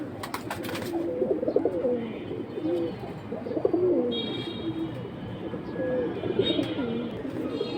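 Several pigeons coo steadily and overlap one another at a busy pigeon market. Their throaty calls carry over a constant murmur of background crowd noise, with brief chirps and rustles mixed in.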